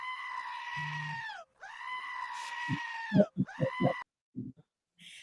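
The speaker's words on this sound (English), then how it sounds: "I love the screaming goats." A screaming goat sound effect: two long, loud, human-like goat screams, then a shorter third one, followed by a burst of choppy thuds and clatter.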